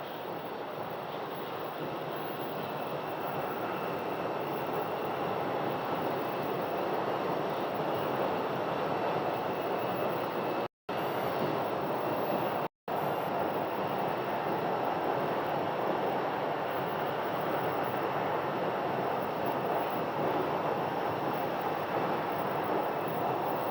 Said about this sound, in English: Using a lot of runway for takeoff.